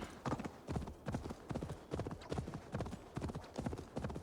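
Rhythmic galloping hoofbeats of a horse in the video game Assassin's Creed Valhalla, regular close thuds repeating steadily throughout.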